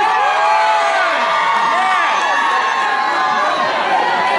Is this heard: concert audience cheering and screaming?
yes